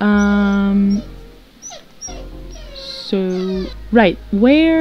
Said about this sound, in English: if you guys are hearing crying, that's my dog.